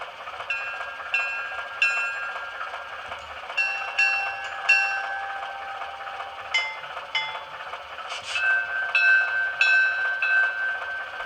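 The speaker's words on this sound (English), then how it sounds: "Press button 9 to hear a short sound of a bell." Ringing locomotive bell tones from a model train sound decoder repeat over a low mechanical hum, clear and close, with a sustained whistle-like tone near the end.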